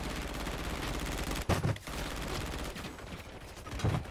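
Gunfire in a shooter video game crackles steadily throughout as a dense, continuous rattle of shots, with a couple of louder, closer bursts standing out from the ongoing firefight.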